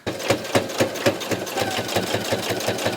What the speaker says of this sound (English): when I sew the top, I'm just making sure I'm closing this or laying this flat as well